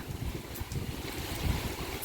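Typhoon wind roars and buffets the microphone in gusts, with a dense wash of heavy rain underneath, loud and close.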